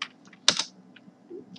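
A few keystrokes tap on a computer keyboard, sharp and close, with a louder cluster of clicks near the middle and quiet gaps between.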